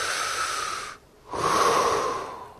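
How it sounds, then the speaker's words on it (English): A single person breathes in and out, one long, close, airy breath followed by a brief pause and then another long breath, clear and alone with no talking. "if you breathe in and out, you're using your lungs"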